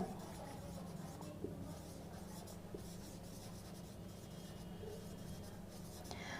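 Pen writing on paper during a bookkeeping lesson on journal entries, a faint steady scratching that runs throughout under a low background hum, with no talk.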